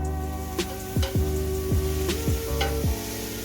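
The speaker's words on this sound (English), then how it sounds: "When it's hot enough, add the onions and cook until they're soft." Onions frying in hot olive oil in a skillet give off a steady, soft sizzle with some sustained tonal sounds and gliding tones layered over it, and no talking.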